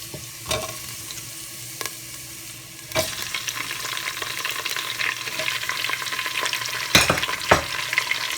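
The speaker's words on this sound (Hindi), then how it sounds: "अब डाल देंगे इसमें चाँपें।" Mutton chops frying in oil with ginger garlic paste for masala chops: a continuous close sizzle that swells after a sharp clatter, marked by several loud spatula knocks against the pan.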